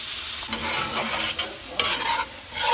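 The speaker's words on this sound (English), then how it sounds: "We added an onion, some ginger, and some garlic. And we're just gonna stir this until the onion is soft." Onion, ginger and garlic sizzle in hot oil in a pan while a utensil stirs them, giving a steady frying hiss broken by soft, close scraping strokes.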